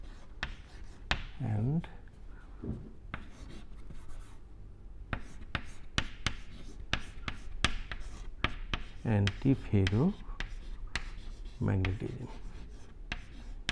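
Chalk or marker writing on a board in a lecture on magnetic properties of solids: rapid tapping strokes and short scratchy scrawls recurring throughout, close and fairly quiet, interleaved with a man lecturing.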